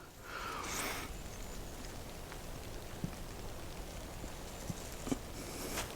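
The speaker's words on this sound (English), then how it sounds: "It's pouring down rain, everything's getting soaking wet." Heavy rain pours down steadily in English woodland, a dense, continuous hiss of drops with a few sharper nearby drips and taps, with no talking.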